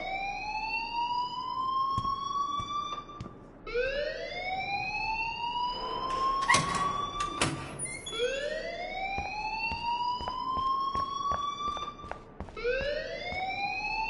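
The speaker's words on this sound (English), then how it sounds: "please turn off that alarm since that's your job" Rising and falling electronic alarm wails in the video game Life is Strange, looping steadily through the whole stretch, loud and close, with a couple of sharp bangs in the middle.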